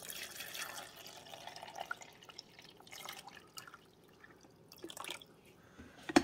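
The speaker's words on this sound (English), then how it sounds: "We're simply going to pour it back here where the water goes." Vinegar and water pour and drip in uneven bursts, splashing faintly into a coffee maker's water reservoir, with quiet clinks and a sharp knock at the end.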